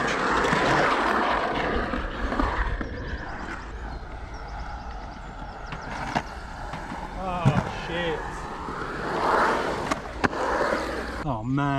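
Skateboard wheels rolling and grinding across the concrete of Crystal Palace skatepark, a continuous close rumble with occasional sharp board clacks, while someone talks over it.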